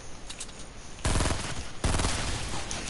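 Two sharp suppressed pistol shots in a shooter game, each a sudden crisp burst about a second apart, standing out loudly against quieter game background with no talking.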